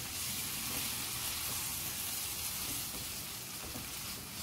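Small marinated chicken pieces sizzle steadily in a hot pan, a dense, even frying hiss that carries on alone without pause.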